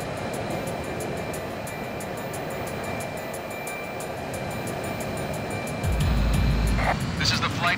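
MiG 1.44 jet engine at takeoff in the video game Ace Combat Infinity: a steady, loud roar with a whining tone, swelling into a heavier, deeper rumble near the end.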